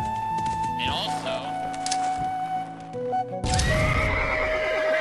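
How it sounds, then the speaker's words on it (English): A horse in the Halo Custom Edition video game gives a loud neigh, with clip-clop hoofbeats and other game sounds around it; a person talks at points. "I don't think we're gonna get the horse out of the wall."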